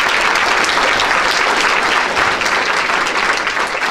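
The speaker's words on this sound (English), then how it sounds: "So please give all of these people one big round of applause." Audience at a faculty and staff meeting clapping, a loud dense burst of applause sustained evenly for several seconds with no voices over it.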